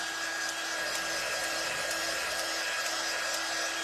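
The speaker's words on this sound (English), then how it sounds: "I'm just drying this really quick just to make sure that if I accidentally touch it, it doesn't go smear" A hair dryer blows steadily on a freshly painted military-themed craft decoration, a loud, even, close whirring roar with no break and no talking.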